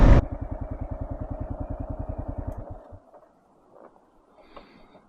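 A motorcycle engine running close by with a rapid, steady low thumping pulse for about three seconds before it cuts off, leaving near silence and a few faint rustles.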